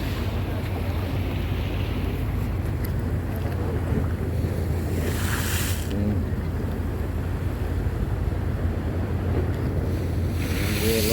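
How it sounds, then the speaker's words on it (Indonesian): Large waves surge and wash against a ship pier under constant wind rumble, with a few sharper splashing crashes standing out from the steady roar. "Ombak gelombang."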